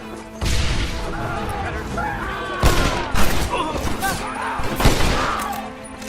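Shootout gunfire in Red Dead Redemption, a loud crackling fusillade of overlapping shots and impacts with sharper cracks standing out, while voices shout over the battle.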